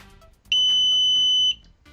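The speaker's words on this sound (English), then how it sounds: "I have it doing a little beeping sound to begin with" An Arduino robot gives a single steady electronic beep lasting about a second, loud and close, with quiet background noise before and after.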